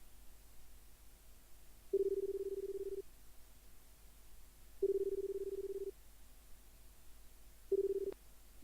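A telephone rings in a Japanese romance video game, Pure/Electric Love, three steady electronic ring bursts about a second long, spaced by short pauses, clear and alone over a quiet background.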